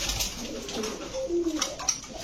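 Pakistani pigeons at a pigeon shop coo in low, throaty bursts, fairly close, with faint chatter and rustling in the background.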